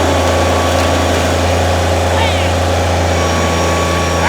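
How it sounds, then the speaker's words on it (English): A farm tractor engine idles steadily nearby, giving a continuous low mechanical drone with a deep hum, while people talk faintly over it. "The boss lady's gone to go get her tractor."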